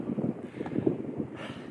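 Wind gusts through a forest camp by a lean-to in the Hossa backwoods of Finland, a steady low rushing roar that swells and buffets the microphone for a couple of seconds.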